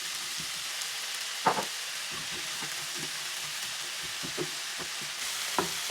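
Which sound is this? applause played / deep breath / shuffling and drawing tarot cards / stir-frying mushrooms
stir-frying mushrooms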